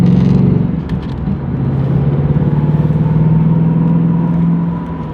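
Steady, loud rasp from a 1985 Volvo 740 fitted with an LS6 V8 and Flowmaster mufflers, the exhaust holding a close, buzzing drone that swells slightly after an initial dip, with no talking.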